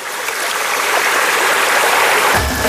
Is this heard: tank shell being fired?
no